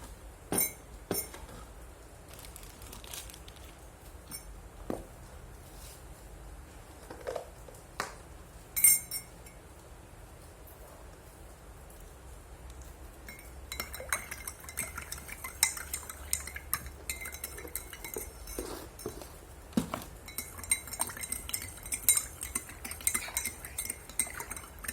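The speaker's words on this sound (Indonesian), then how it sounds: "Masukkan 1 sendok gula ke dalam segelas air, kemudian diaduk hingga merata dan larut." A spoon stirs sugar into a glass of water, giving light, irregular clinks of metal against glass, sparse at first and then busier and more continuous in the second half, close and fairly quiet with no talking.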